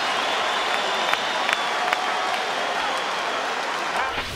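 A packed boxing arena crowd at Staples Center in Los Angeles claps and cheers in a loud, sustained roar during a championship fight, with scattered sharper shouts and commentary voices mixed in.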